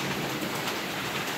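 Steady rain falls during a tropical storm in Ethiopia on an evening, a dense continuous hiss with no breaks, moderately loud and even throughout, with no voices.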